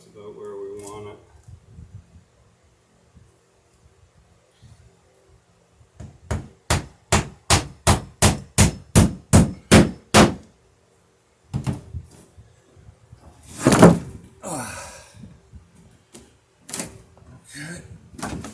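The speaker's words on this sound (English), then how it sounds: "So we'll finish nailing down the plank now that we know it's about where we want it." Hammer driving nails into a wooden plank on a dory under construction: a steady run of about a dozen sharp, loud blows, followed by more scattered strikes and thumps, with talking at the beginning and later on.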